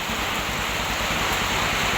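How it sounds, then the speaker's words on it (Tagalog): Heavy rain during Typhoon Ramil pours in a steady, dense roar that fills the whole stretch, loud and close with no voices over it. "Ay sobra pong lakas po ng ulan"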